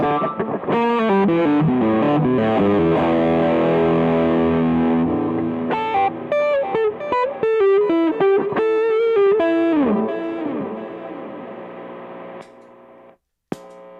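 An electric guitar is played through a fuzz pedal, giving thick, distorted, buzzy chords and single notes with a noisy hiss, then fading into a sustained hum with a sharp click near the end.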